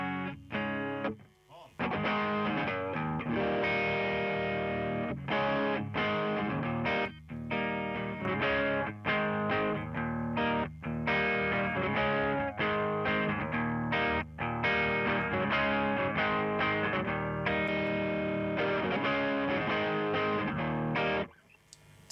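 Electric guitar through a Mattoverse Effect Architect v2 clipping pedal, a Klon-style overdrive, plays a continuous run of driven, saturated chords and riffs for about twenty seconds, loud and close, with brief pauses.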